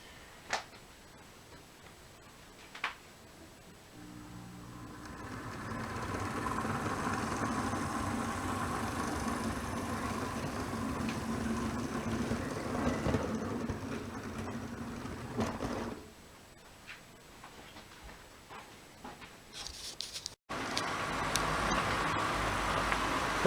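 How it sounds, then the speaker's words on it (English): Two model grain trains running one behind the other on a single layout track, a steady mechanical rumble and rattle that swells, drops away briefly, then returns, with occasional clicks. "our two grain trains are following each other around on one track"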